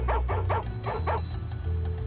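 A little dog in the video game Chinese Paladin 2 gives five quick, close, loud barks in a steady rhythm over a low droning game soundtrack.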